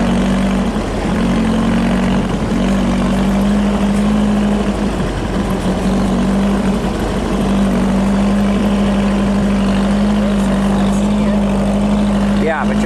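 An off-road vehicle's engine drones steadily along a sandy trail under a power line, a constant low hum beneath wind noise with slight dips in pitch, while a voice speaks now and then.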